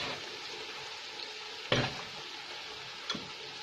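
Onions dropped into spiced masala frying in hot oil for an aloo chana biryani give a steady close sizzle, broken by two sharp stirring scrapes, one near the middle and a smaller one toward the end.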